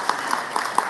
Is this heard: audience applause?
yes